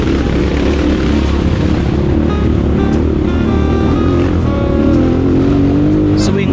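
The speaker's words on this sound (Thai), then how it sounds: "สตาร์ทเครื่องยนต์โชว์" An enduro motorcycle engine runs loudly and steadily close by, revving a little higher toward the end.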